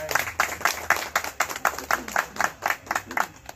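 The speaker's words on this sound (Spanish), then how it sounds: "quiero que le demos un aplauso a ellos, por favor" Applause from an audience at a swearing-in ceremony for a circle of radio broadcasters, a brisk run of claps with a steady rhythm. It is fairly close and continuous, with no voice over it.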